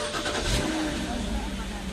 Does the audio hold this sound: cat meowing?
no